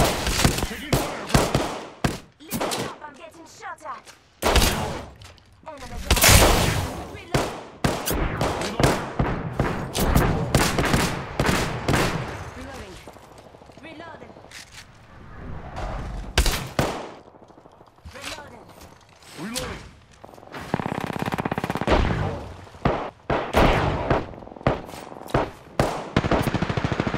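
Gunfire in a video game, with bursts of automatic shots and single cracks scattered loudly across the scene, mixed with in-game voices and quieter gaps between the firefights.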